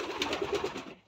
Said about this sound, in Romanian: Acest porumbel l-am primit cadou anul trecut.